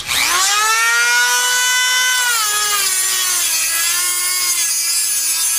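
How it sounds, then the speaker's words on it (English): A Dremel cutoff wheel bites into a Jeep Wrangler JK transmission hose with a loud, high, steady whine that dips slightly in pitch under load, close and continuous for several seconds. "So I've just got a Dremel with a cutoff wheel."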